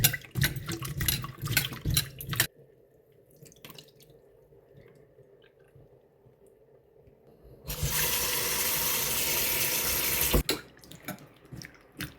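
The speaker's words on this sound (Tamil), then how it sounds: "இப்போ ரெண்டு மூணு தண்ணியில் நான் கழுவிட்டேன்" Ingredients being rinsed in water while cooking a Sri Lankan Tamil dish with urad dal and purple yam: brief handling sounds, a quiet stretch, then about three seconds of steady running, splashing water before it stops.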